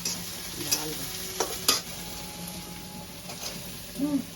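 Chopped onion and curry leaves fry in a pan for kadhi, producing a soft, close sizzle broken by a few brief crackles and pops.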